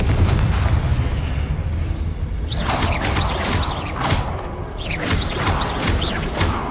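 Blasting-spell explosions in Hogwarts Legacy, a dense run of booming bursts and whooshes over a constant rumbling game soundtrack, loud and continuous.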